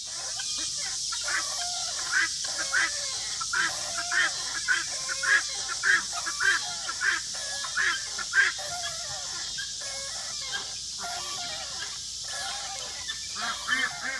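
Repeated quacking from ducks nearby, a run of rhythmic calls over a steady hiss of background noise.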